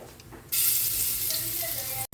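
Garlic hits hot oil in a pan for tomato sarsiado, breaking into a loud, steady sizzle that holds close and strong for over a second before a brief dropout near the end.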